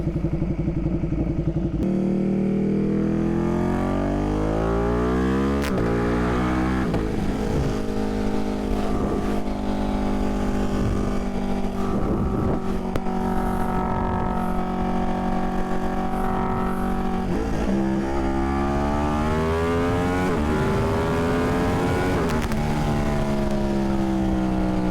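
Ducati Panigale V2 or V4 engine revving and accelerating through the gears, the rising and falling engine whine sweeping up repeatedly with shift breaks, loud and close with no talking.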